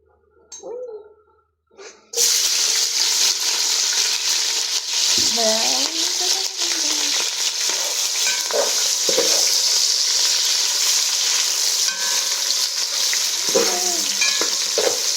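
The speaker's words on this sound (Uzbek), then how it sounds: "Piyozni yaxshilab qizargancha qovurib olamiz." Onions frying in a pan with oil, a loud steady sizzle that bursts on as they hit the pan, then continues with intermittent scraping stirs and no talk.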